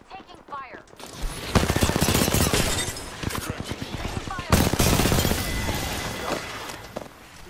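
Heavy video game gunfire comes in loud rattling volleys with strong impacts, pausing and then surging again, while voices talk over the shooting.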